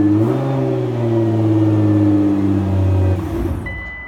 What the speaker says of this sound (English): Car starts.